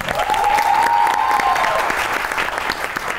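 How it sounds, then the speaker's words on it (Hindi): Loud, dense audience applause in a Pakistani television comedy talk show studio, sustained clapping from a large crowd with a faint tone sliding through, continuous for several seconds. "तो आपकी बहुत सी तालियों में एक जबरदस्त परफॉर्मेंस लाइव आपको सुनाएंगे अदील बरकी"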